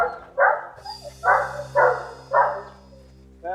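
A dog barks four times in quick succession, close and loud, with short gaps between barks, over a faint steady hum, and a brief voice comes in at the end.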